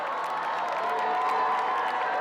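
Crowd of faithful cheering at Lourdes as Pope Benedict XVI arrives in his popemobile, a steady, distant wash of voices and faint applause holding at an even level throughout.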